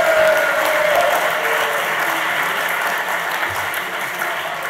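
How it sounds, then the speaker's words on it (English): A live audience at a London talk-show event on Scientology breaks into loud, sustained applause that fills the whole stretch, dense and even from start to finish without talk over it. "Everyone a big round of applause"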